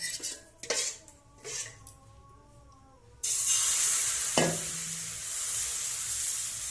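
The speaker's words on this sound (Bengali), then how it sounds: "এই হাতা দিয়ে ঘোরানোর সময় হালকা করে ঘোরাতে হবে, নাহলে হাতার সঙ্গে উঠে আসবে।" A ladle scrapes and swirls patishapta batter in a pan, with metallic clinks early on, then a sustained sizzling hiss takes over with a sharp knock midway; no talk.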